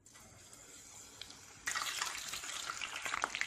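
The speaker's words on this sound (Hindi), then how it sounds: "देखिए ये अच्छे से फ्राई हो रहे हैं।" Chicken lollipops deep frying in hot oil over a medium flame, a steady bubbling hiss that jumps louder partway through as more pieces go in, then crackles on busily without any talk.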